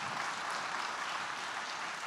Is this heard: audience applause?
yes